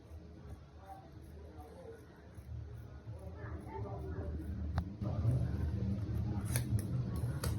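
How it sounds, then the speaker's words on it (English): Scissors snip through fabric for a cape on a dress, with soft, close cuts running under a quiet voice and steady room noise, ending in a few sharper clicks of the blades. "Then the next thing here is to cut it out."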